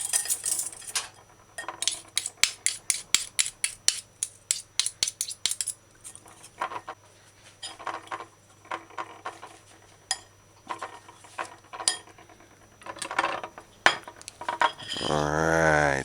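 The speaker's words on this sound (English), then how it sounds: "once you add the ingredients for marinating, stir in properly" A spoon stirs chicken marinade with sherry cooking wine and cornstarch in a bowl: quick, steady clinks against the dish, then slower, irregular scrapes and taps, ending in a brief rushing swirl.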